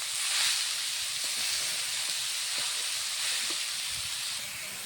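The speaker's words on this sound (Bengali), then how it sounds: "ঢাকা দেব না, হালকা করে দিয়ে ভাজবো।" Fenugreek greens and potato frying in an uncovered pan, a steady close sizzling hiss with faint scraping and stirring knocks underneath, no voices.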